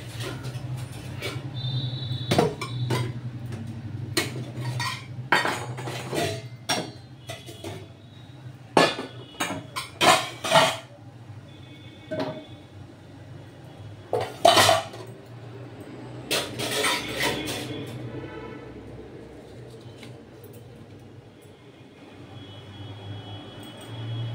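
A spoon scrapes and clanks against a metal kadai as mutton curry is stirred, the irregular sharp knocks and clinks spaced out over a low background hum.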